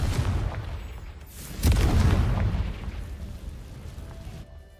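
A Confringo blasting spell cast in Hogwarts Legacy bursts with a booming, explosive impact that decays over a couple of seconds, set against continuous game ambience.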